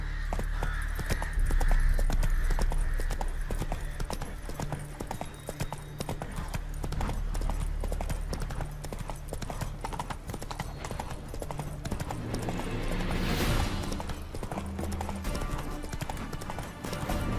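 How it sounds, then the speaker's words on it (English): Horse hooves clip-clop rapidly and rhythmically in The Witcher 3: Wild Hunt, loud and close over the full stretch with a jangle of tack, and a short whoosh near the end. "Whoa there, Roach"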